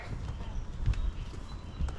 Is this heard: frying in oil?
no